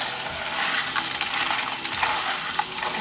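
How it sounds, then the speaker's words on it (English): Rinse water is poured off soaked beans for a Jamaican stew peas dish, a steady rushing, splashing pour that runs without a break for about three seconds, close up and with no talk. "So here we are washing our beans and we're gonna discard this water."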